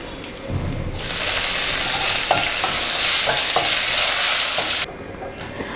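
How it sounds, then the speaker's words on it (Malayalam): Dried red chillies and curry leaves hit hot oil for a Kerala sambar tempering, bursting into a loud close sizzle that runs for about four seconds with a few stirring clicks, then cuts back to quiet. "ഇനി നമുക്ക് ഇതിനകത്തോട്ട് വറ്റൽമുളക് ചേർത്ത് കൊടുക്കാം. നന്നായിട്ടൊന്ന് ഇളക്കി കൊടുക്കുക."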